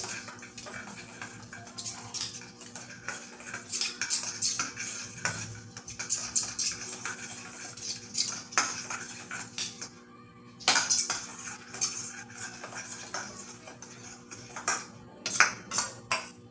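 A spoon stirring cornflour into flour for khari biscuit dough, giving a run of scattered clinks and scrapes against a bowl that rise and fall irregularly, close up and fairly quiet.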